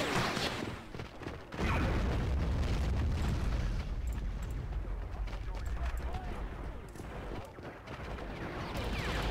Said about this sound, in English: Oh, that huge explosion.